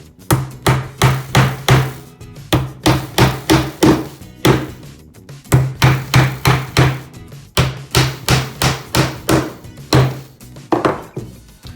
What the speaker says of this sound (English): now we can just take our hammer and finish driving all those